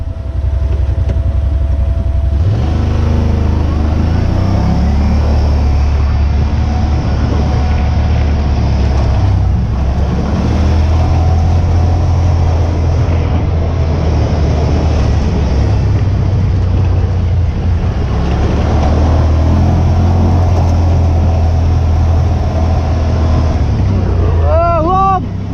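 A Yamaha Wolverine X4 UTV fitted with Walker Evans shocks drives over rough ground, its engine droning loud and steady throughout with shifting pitch, and a brief chirp near the end.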